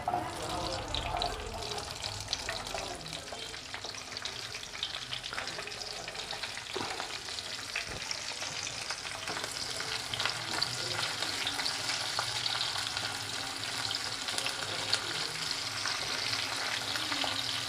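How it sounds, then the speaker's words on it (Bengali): Chopped onions frying in hot white oil in a pan: a long, even, crackling sizzle that holds steady close by for the whole stretch. "সাদা তেলটা গরম হবে। দিয়ে দেবো কেটে রাখা পেঁয়াজ"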